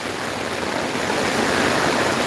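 Heavy rain pours down steadily at a plant nursery, a dense, loud, unbroken roar of falling water with no pauses or voices.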